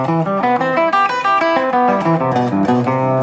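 Guitar major seventh arpeggio played with alternate picking, clean, evenly picked notes climbing and falling in a steady rapid run, loud and close with no talking.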